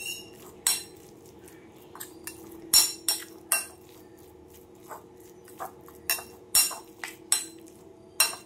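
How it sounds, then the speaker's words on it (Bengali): Spoon clinking against a bowl while spice mix for mango oil pickle is stirred, a series of sharp metallic taps and scrapes at irregular intervals, close and fairly quiet. "মশলাটা একটু ভালোভাবে আগে মিশিয়ে নেব"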